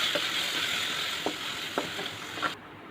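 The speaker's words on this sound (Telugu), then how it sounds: "కళాయి వేడెక్కాక కొంచెం నూనె పోసుకొని వేడెక్కాక టమాటా ముక్కలు వేసి మగ్గనివ్వాలి." Tomato pieces sizzle steadily in hot oil in a kadai for a mint-tomato chutney, a close, even frying hiss broken by a few soft clinks of stirring.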